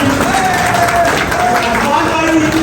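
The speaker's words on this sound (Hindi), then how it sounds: "आपकी भरपूर तालियां भी होनी चाहिए।" An audience claps at an Independence Day gathering, a steady wash of applause mixed with crowd noise and a voice talking over it throughout.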